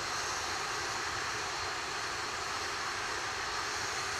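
An Atlas V rocket roars during its NROL-101 launch flight, a steady, dense broadband rumble heard from a distance without a break.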